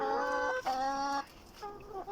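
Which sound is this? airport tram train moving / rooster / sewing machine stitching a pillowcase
rooster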